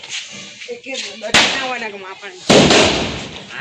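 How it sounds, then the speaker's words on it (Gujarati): Mirchi bomb firecrackers set off for Diwali in a Gujarat village: two loud, sharp bangs about a second apart, each with a ringing decay, after voices chatter. "અમારા ગામના નાના છોકરાએ પણ મરચી બમ ફોડ"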